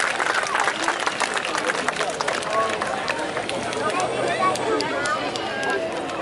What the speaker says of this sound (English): Try not to give Frank here a massive round of applause